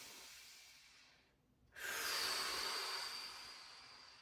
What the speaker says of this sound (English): Let's take 3 big breaths.